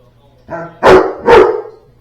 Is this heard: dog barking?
yes